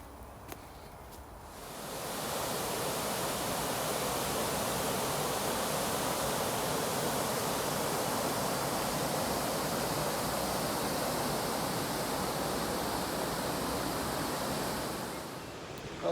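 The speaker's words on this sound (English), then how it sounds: "here we are by the waterfall" A steady, full roar of rushing water fills the scene, rising in after a quieter opening and holding constant before easing off at the end.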